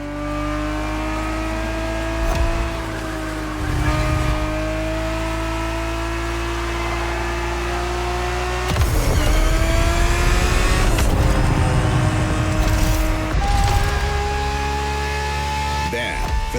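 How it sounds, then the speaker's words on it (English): A Ferrari 365 GTB4 from the 1970s races in The Crew Motorfest, its engine droning and climbing through the revs with gear shifts and brief tire noise, loud and steady throughout. "365 GTB4 is the perfect vehicle for you to experience Ferrari racing as it felt back in the 70s"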